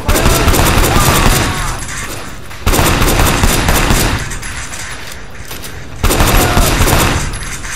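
Loud bursts of rapid video game gunfire in three waves, each starting abruptly and trailing off into echoing noise.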